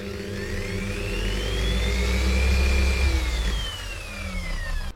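An Okatz dual action polisher starts softly and ramps up to full speed, its motor whine rising steadily in pitch over a few seconds and then levelling into a loud, even whir close by.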